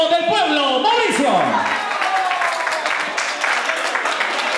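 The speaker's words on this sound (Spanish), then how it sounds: "recibamos con un fuerte aplauso en el escenario al charro del pueblo, Mauricio." Audience applause for a charro singer taking the stage: a voice at the opening quickly gives way to a steady, dense wash of clapping that holds through to the end.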